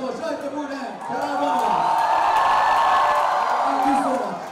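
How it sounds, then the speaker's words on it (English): Audience at a Bollywood song launch event cheers and whoops for Shahid Kapoor and Kiara Advani, a swelling wash of crowd noise with shouts rising over a host speaking, then easing off. "A big round of applause for Shahid Kapoor and Kaira"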